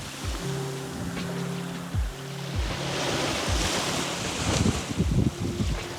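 Waves roll and break repeatedly on a winter beach on Zakynthos, with gusting wind buffeting the microphone and a steady rushing surf between crashes.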